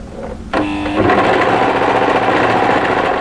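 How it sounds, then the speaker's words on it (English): Sewing machine stitching the band of a pleated maxi wrap dress: a brief start-up hum, then a loud, continuous rapid whir close by that keeps going to the end. "I'm just going to sew a small amount at a time"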